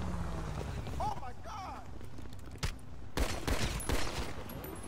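Gunfire in a video game, a few sharp bursts and shots over busy game noise and music, with people talking excitedly throughout.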